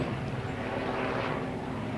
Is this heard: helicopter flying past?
yes